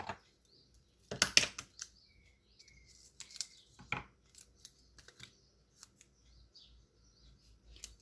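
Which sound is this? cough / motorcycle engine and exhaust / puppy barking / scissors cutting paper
scissors cutting paper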